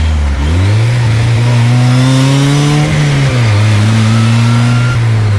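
A DF Goblin street-legal go-kart engine revs up through the gears, its loud buzzing note climbing steadily, dropping briefly at a shift, then pulling again close and alone.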